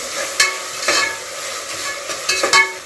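Onions and tomatoes for a hotel-style chicken liver fry are stirred in a sizzling pan, with a handful of sharp scraping strokes at irregular intervals over a constant frying hiss.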